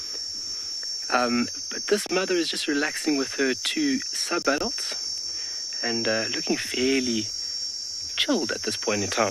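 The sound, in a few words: cicadas calling on a warm afternoon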